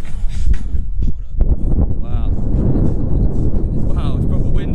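Heavy wind buffets the microphone with loud, rumbling gusts on a rooftop bar in Bangkok, and a voice briefly speaks partway through.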